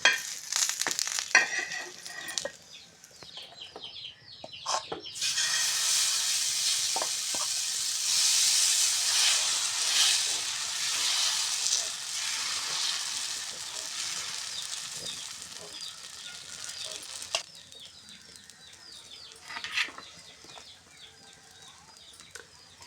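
Oil with green chillies sizzling on a hot griddle for an onion egg dosa: a loud, dense frying hiss surges up, holds for several seconds, then drops back to soft crackles and occasional utensil taps.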